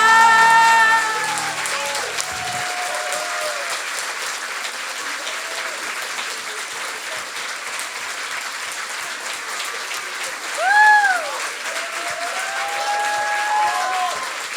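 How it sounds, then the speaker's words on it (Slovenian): A large audience at a children's New Year's Eve show claps steadily and loudly for a primary school choir, a warm sustained wash of applause with a few faint voices mixed in. "En velik aplavz za pevski zbor Osnovne šole Kamnica."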